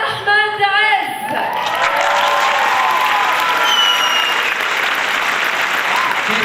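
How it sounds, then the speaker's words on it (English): Audience applause and cheering greet a guest introduced on stage at a pageant show, loud, dense and sustained throughout, with scattered whoops and a voice briefly audible early on. "Keep those hands clapping."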